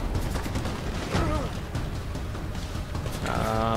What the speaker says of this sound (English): When the weapon is equipped, press square to fire.